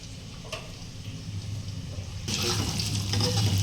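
Water poured into spice paste frying in a pan with grated ginger for a vegetarian potato curry, a low hiss and rush that jumps to a louder, fuller splashing sizzle partway through, with no talk.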